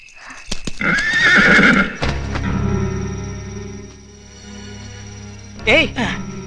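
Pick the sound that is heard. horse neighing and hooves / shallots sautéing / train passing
horse neighing and hooves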